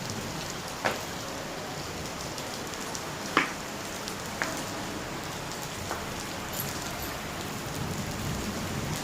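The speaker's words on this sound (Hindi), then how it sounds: "तेज ही आ गई बारिश" Heavy rain pouring steadily as a dense hiss during a storm, with a few sharper drops or knocks standing out, moderately loud and continuous with no voices.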